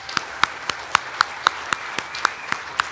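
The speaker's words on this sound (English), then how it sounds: "Let's give them a big round of applause." At the Freedom of the Seas Gala 2023, sparse, crisp hand claps ring out in a slow, steady rhythm, a handful of distinct smacks rather than a full crowd roar.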